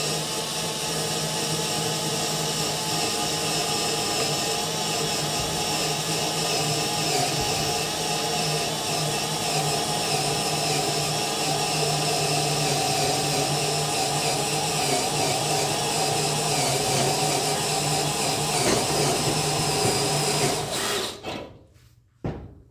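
A power drill runs steadily and loudly for about twenty seconds, over-drilling a hole for a 5/16 bolt, its whine holding a constant pitch before it stops abruptly and falls silent.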